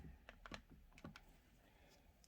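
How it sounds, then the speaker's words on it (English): Typing on an IKOS ultra slim Bluetooth keyboard connected to an Android device: a string of soft, irregular key taps close by, spaced unevenly, ending in one sharper click, with no talking. "And I am using the keyboard,"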